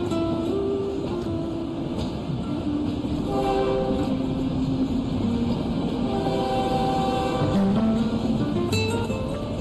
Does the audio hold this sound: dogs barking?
no